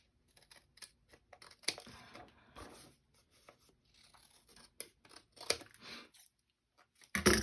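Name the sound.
scissors trimming and rounding paper for journaling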